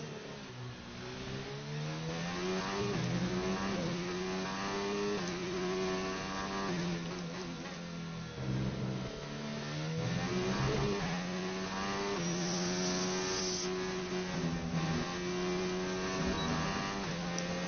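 A Formula 1 car in the F1 2019 racing game screams at high revs for a long stretch, its engine pitch rising through the gears and dipping on each upshift, loud and continuous with no talking.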